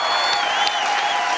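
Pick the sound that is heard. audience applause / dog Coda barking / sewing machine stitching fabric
audience applause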